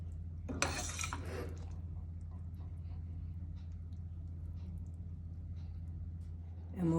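A utensil scrapes and clinks against a dish for about a second while strozzapreti pasta with radicchio and sausage is plated, then a low kitchen hum carries on steadily with a faint clatter at the end.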